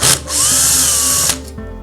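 A power drill whirs loudly in one sustained burst, backing Phillips head screws out of an EdenPURE 1000 XL heater during a heating element replacement, close and alone.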